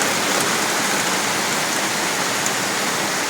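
Torrential rain hammers down on a Kolkata street during a storm, a loud, dense, unbroken hiss of rain with no voices.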